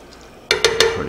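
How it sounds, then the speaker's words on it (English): Metal spoon scraping a pot as salted rigatoni with Italian sausage is stirred, three distinct strokes following a quiet start, close and fairly loud. "Mix that up thoroughly."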